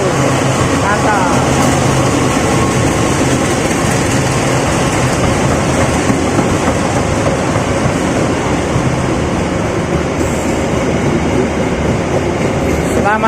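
Sri Tanjung economy passenger train pulled by a CC 201 locomotive at Yogyakarta station, a continuous loud rumble and rolling clatter of carriages passing close by throughout, steady and dense with no break.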